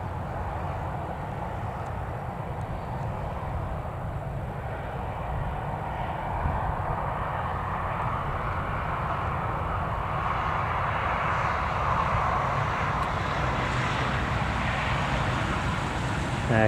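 An aircraft taxis at Newcastle Airport, giving a steady, broad engine rumble that holds at a constant level throughout and swells slightly toward the end, heard from a distance outdoors with no talk.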